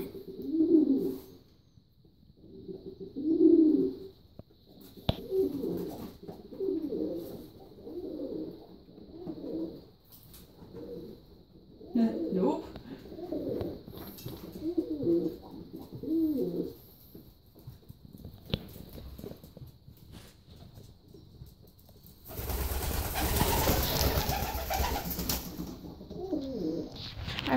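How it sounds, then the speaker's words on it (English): Pigeons or doves cooing nearby in repeated soft, rhythmic phrases on a sunny bathing day, with fainter calls later and a loud burst of rustling splash or flutter near the end. "Hi, all those birds."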